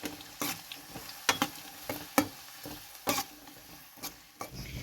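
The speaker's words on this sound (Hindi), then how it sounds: "इस गरम तेल में हम फ्राई कर लेंगे प्याज को।" Onions sizzle and crackle in hot oil, broken by stirring scrapes and clatters in an uneven rhythm, close by with no voices.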